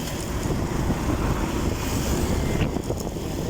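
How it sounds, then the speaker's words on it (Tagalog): Strong wind roars steadily against the microphone at a construction site between Bicutan and C6, Taytay, a dense continuous low rumble with gusty buffeting throughout and no voices. "Lakas ang hangin mga lodi."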